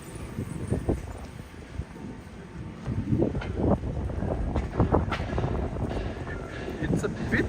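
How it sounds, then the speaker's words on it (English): Gusty wind buffets the microphone on a morning street walk in Tokyo, a steady low rumble with swelling gusts throughout, while a voice talks over it. "Hope you're not too annoyed by the wind noise."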